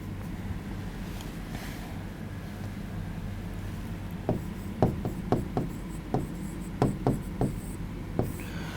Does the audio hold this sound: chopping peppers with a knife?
no